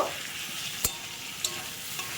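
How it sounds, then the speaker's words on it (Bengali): Fried lailontika fish and turmeric powder sizzle in a pan with a steady close hiss, broken by a few sharp clicks of a spatula during stirring, with no voices. "এবার আমি দিয়ে দেবো এতে হলুদের গুঁড়ো দিয়ে একটু নাড়িয়ে নেব"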